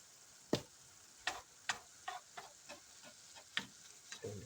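Taco pasta being stirred in a pan on the stove, a spoon scraping and clicking against the pan in about ten separate strokes, close and quiet over a soft background hiss.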